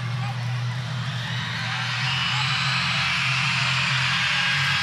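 Elementary and middle school children in the crowd at a women's college basketball game, Winthrop versus Clemson, raise a steady high-pitched din of shrieks and cheering that swells slightly and carries on under a commentator's talk.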